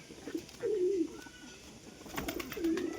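Pigeons coo softly at close range, giving a few low, throaty rolling calls separated by short pauses, with faint background noise.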